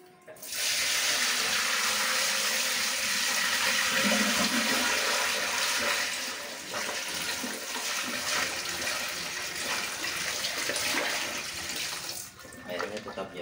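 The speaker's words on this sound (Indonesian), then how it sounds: "Airnya tetap jalan, lancar." After a clogged drain is cleared with a pipe cleaner, water pours freely down it in a loud, steady rush that runs close by for several seconds and fades near the end.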